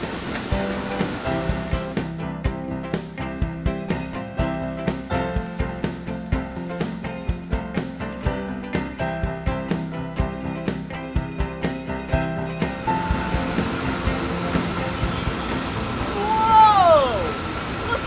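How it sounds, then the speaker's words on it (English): At a cherry processing factory, bins of cherries are emptied into water, a rushing, splashing wash that swells up late, following a stretch of upbeat rhythmic music. "it's time to dump them in the water so they can get sorted and packed"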